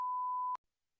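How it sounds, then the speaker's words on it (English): Censor beep covering a spoken word: one steady pure tone lasting about half a second, loud and isolated, ending abruptly into silence. "But say the word, but we'll beep it out."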